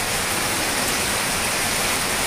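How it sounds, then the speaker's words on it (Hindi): Heavy rain in the mountains around Nainital, a dense, even hiss of downpour filling the whole moment, loud and close with no talk over it. "पहाड़ों की बारिश"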